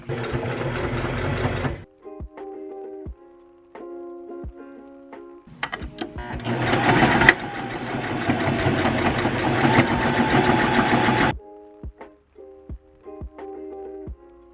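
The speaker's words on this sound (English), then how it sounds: "sew another circle around as neatly as you possibly can while still following the curve" A sewing machine stitches a circle around the brim of a reversible fabric bucket hat in two loud runs, the second longer, with quiet pauses between and a steady hum in the gaps.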